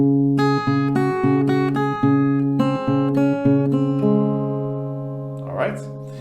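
An acoustic guitar picks the C pattern of a song as a string of clear single notes that fade out, followed by a short soft noise near the end.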